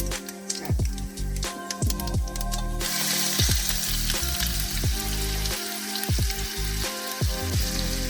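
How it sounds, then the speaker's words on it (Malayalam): Ginger and garlic fry in a pan with a steady broadband sizzle, punctuated by repeated scraping stirs and light clinks of a utensil against the metal. "ഇഞ്ചി വെളുത്തുള്ളി പൊരിഞ്ഞ് വന്നിട്ടുണ്ട്."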